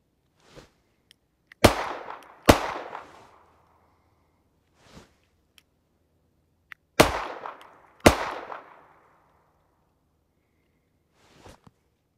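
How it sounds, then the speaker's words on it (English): Revolver shots from a Charter Arms Boxer snub-nosed handgun at a shooting range: two pairs of sharp, loud cracks with short decaying tails, separated by quiet pauses, plus a few faint clicks and thuds. "squeezed off 2 shots to the body of the target"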